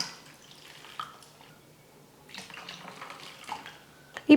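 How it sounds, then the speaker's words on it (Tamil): Water, about two cups, poured onto crushed jaggery in a cooking pot: a soft splashing pour that swells in the second half, with a few clinks near the end in a quiet kitchen. "கூடவே 2 கப் அளவுக்கு தண்ணி சேர்த்துக்கிறேன்."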